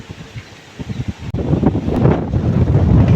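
Strong storm wind roars and gusts against the microphone during a local storm warning at a seaport, rising from a moderate rush into a loud, sustained buffeting with rain.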